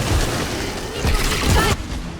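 Explosions go off in the video game Remnant, a burst of booming, crackling blasts over about two seconds that cut off abruptly, with players talking over them.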